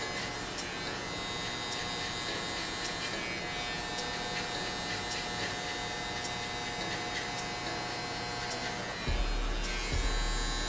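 Close electric hair clippers hum continuously while trimming gray hair during a haircut, a steady buzzing drone with a brief louder bump near the end.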